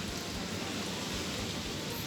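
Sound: rain starting to fall in a storm

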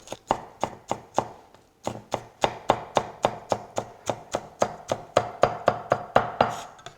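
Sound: chopping green onion with a knife

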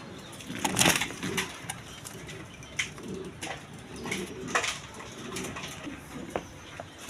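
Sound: pair of Damashil pigeons cooing

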